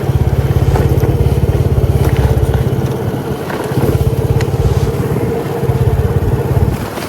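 A motorcycle engine runs close and loud near the sea, a fast rhythmic low putter that rises and dips slightly as the throttle changes, with no voices over it.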